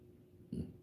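A short, low belch bursts out in a quiet indoor setting, a single loud half-second eructation after a moment of near silence.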